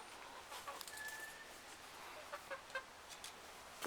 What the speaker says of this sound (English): And the chickens are really growing up.